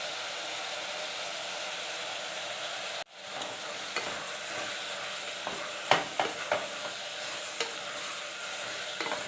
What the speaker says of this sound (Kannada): ಅದು ನೀಟಾಗಿ ಎಲ್ಲ ಫ್ರೈ ಮಾಡ್ಕೊಳ್ಳಿ.